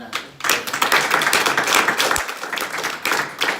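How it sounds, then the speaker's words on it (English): Audience at a training meeting bursts into applause, a dense, steady wash of many hands clapping that rises abruptly and carries on evenly to the end. "Let's give a round of applause."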